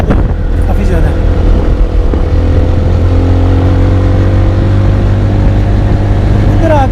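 Benelli TNT 25 motorcycle engine hums steadily while riding on a cold mountain pass road, a constant loud drone with wind rumble and a voice talking over it.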